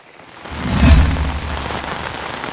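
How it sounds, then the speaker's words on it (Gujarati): Heavy rain driven by strong wind, a loud, dense wash of falling water that swells to a gusting peak near the start, then settles into a steady roar. "ભારે પવન સાથે વરસાદનું આગમન થતાં"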